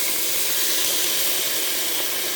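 Chicken pieces hit a hot pan for curry, releasing a loud, steady sizzling hiss that fills the moment close up, alone without talk.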